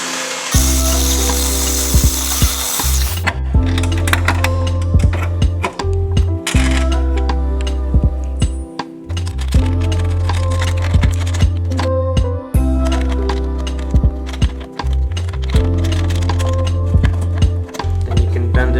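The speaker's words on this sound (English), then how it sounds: "Drilling it out to fit the stud." A power drill runs in several long steady bursts, its motor whining as it bores a stud hole through metal for a bumper hood pin latch, with brief pauses between passes.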